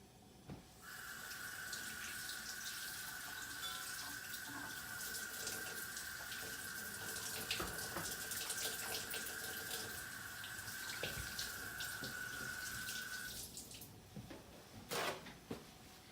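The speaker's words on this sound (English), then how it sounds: "I'm gonna wash my hands to get the granola off." Running tap water pours steadily into a kitchen sink while hands are rinsed of sticky granola, a continuous close splashing wash with a faint tonal ring, stopping near the end with a couple of small knocks.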